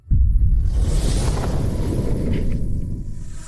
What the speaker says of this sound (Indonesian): Angin kencang.